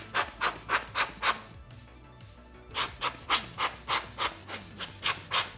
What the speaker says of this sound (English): Next, I'll get the blower and clean out the sensor area.